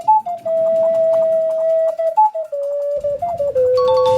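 Ocarina sound effect from a stock audio library: a pure, breathy whistle-like melody of sustained and stepped notes, played alone and fairly loud, with a brief dip and a few shifts in pitch.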